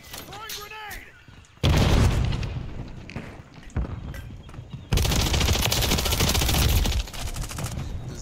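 Video game battle at a boathouse map: loud sustained bursts of automatic gunfire with booming blasts, including a heavy grenade explosion, filling most of the stretch, with a voice briefly heard early on.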